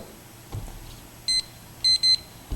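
Short electronic timer beeps as a classroom timer is set for four minutes: one tone near the middle, then a quick pair near the end, high-pitched and clear over a quiet room.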